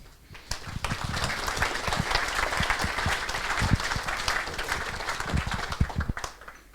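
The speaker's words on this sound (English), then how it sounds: "thank you for clapping already" An audience at a seagrass science café claps for the incoming speaker, a moderate round of applause with sharp individual hand claps standing out near the front, swelling and then tapering off.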